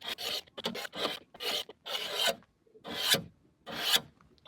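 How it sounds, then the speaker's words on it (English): A knife blade is drawn along the edge of a car window, about nine close, rasping strokes of grinding metal on glass in an uneven rhythm, each stroke sharp and distinct. "we're going to take the side of the knife and we're going to sharpen it as if you would a regular knife on a knife sharpener"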